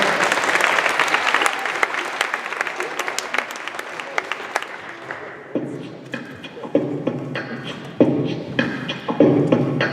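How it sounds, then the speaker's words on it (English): A school assembly audience claps loudly for several seconds, then the applause thins out while voices and scattered hand claps carry on over the room. "Give me a round of applause, ladies and gentlemen."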